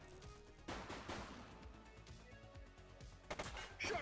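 Gunshots ring out in the video game The Precinct. Several sharp, fairly quiet reports are spread across a busy mix of game sound, with a cluster of louder hits near the end and no one speaking.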